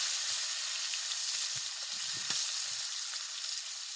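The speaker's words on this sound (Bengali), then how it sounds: "এবার এর ভেতরে আলুগুলো দিয়ে দিব। আলুগুলোকে ভালো করে ভেজে নেব।" Potatoes fry in oil with cumin seeds and three bay leaves, giving a steady, close, bright sizzle with a few faint stirring knocks and no voices.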